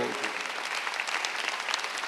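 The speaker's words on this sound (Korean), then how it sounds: "빨리 박수 하세요" A congregation at a Korean Sunday church service breaks into brief, dense applause, a steady wash of clapping that fills the room and is faintly overlaid by a voice.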